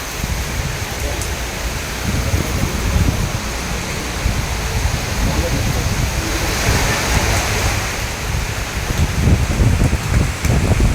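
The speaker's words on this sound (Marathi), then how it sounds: "कंटिन्यू पाऊस पडतो." Continuous heavy rain with gusting wind, a steady dense roar of falling water and air that holds for the whole stretch, loud and close with no talk over it.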